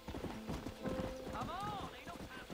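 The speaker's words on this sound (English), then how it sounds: "Whoa, horse!" Horse hooves clip-clop in the Red Dead Redemption video game, a quick steady galloping rhythm mixed with game sounds and a brief whinny, heard under ongoing talk.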